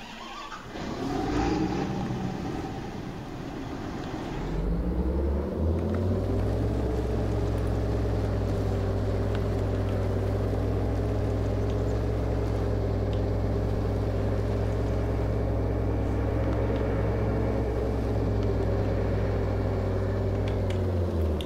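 Farming Simulator 22 vehicle engine, a truck or tractor from MAN or John Deere, starting up after a few seconds of mixed noise and then holding a steady loud low drone while driving, with no voices.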